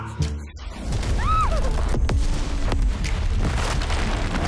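Gunfire and explosions in a movie trailer: heavy booms and sharp cracks over a rumbling low score, loud and close, with brief whooshing effects.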